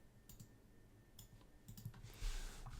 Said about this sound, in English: we're going to type SSH. We're going to type our username here